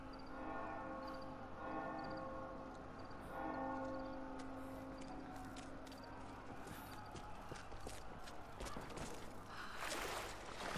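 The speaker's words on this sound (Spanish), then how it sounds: "escuchan campanas y gente gritando." Church bells ring in Rise of the Tomb Raider, their repeated tolls standing out over a busy game soundscape of clanking, rumbling and scattered crashes that grows denser toward the end.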